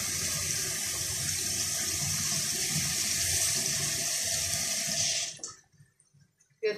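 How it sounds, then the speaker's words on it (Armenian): Water pours in a steady stream into a cooking pot holding a stew, a loud continuous splashing rush that stops suddenly, leaving a few faint drips and a final clunk. "Ինչ եմ անում, ջուրն եմ ավելացնում,"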